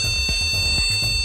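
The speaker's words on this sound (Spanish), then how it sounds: "La misma board le va a avisar con estos pitidos a la hora de iniciar su sistema." A desktop computer motherboard sounds startup beep codes that warn of a RAM fault, a loud electronic tone repeated in short rapid pulses with no talking.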